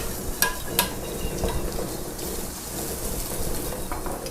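A spoon stirs a seasoning mixture of sugar and sauces in a bowl, giving a few sharp clinks at the start, then a continuous soft scraping swirl, close and without talk.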